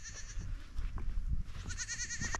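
Goats bleating out on a ridge, a wavering cry near the start and a longer trembling bleat later, over wind and rustling footsteps, with no talking.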